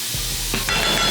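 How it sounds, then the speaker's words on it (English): Short scraping and clattering strokes of a spoon stirring thick tomato paste into a beef stew pot, over a continuous sizzling hiss, a few distinct stirs. "What I will do next is I will add my tomato paste, and I will then stir that in."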